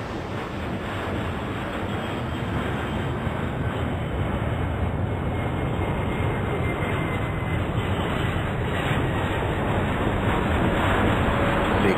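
Airliners taxiing and taking off in the game Airport Madness 4, a dense, steady jet engine roar holding loud and unbroken throughout.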